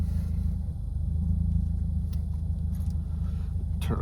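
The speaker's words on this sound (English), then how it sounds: "Somewhat of a busy street" Traffic on a busy street heard beside an idling car, a steady low rumble of engines with faint passing vehicle noise and a few light clicks, no voices.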